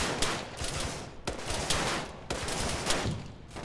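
Squad gunfire in Arma 3: dense volleys of rifle and machine-gun shots crackling in three sustained bursts, each opening with a sharp report and rattling on with overlapping rounds, moderately distant and with no talking.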